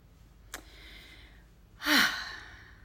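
Deep breaths during a guided breathing exercise: a short sharp intake, then a louder, drawn-out exhale like a sigh, close and alone with no talking.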